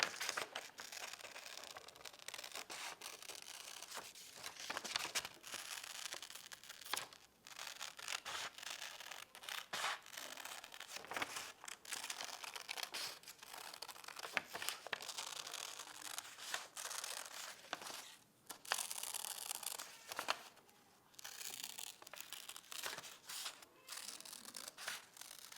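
Scissors trim suncatcher material down to fit a mason jar lid, giving close, continuous snipping and crisp rustling cuts with no gaps, quiet and without talk.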